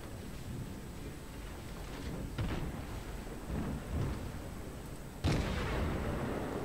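Naval gunfire in the World of Warships video game, with dull booms of warship guns over a steady rumbling battle background, a couple of heavier blasts standing out near the middle and end.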